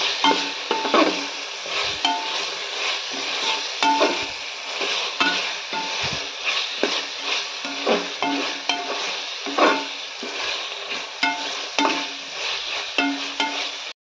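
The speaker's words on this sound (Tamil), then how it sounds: "கேரட்டையும் போட்டு வணக்கிக்கலாம் கொஞ்சம்." Carrots sauté in a pan for vegetable biryani, a continuous moderate sizzle with frequent scraping strokes and light clinks as they are stirred close by, and nobody speaks.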